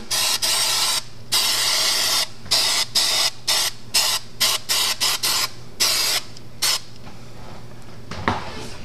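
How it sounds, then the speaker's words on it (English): Aerosol can of adhesive sprayed in a rapid series of short, loud hissing bursts with brief gaps, close by, followed by one longer spray near the end. "we're going to spray the area that we're going to do"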